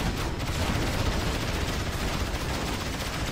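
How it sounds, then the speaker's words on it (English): Short-range mortar units fire in the Rise of the Reds strategy game amid a dense, continuous barrage of thumping shots and explosions that rumble without pause. "It's also why they make the little thumping sound when they fire the gun."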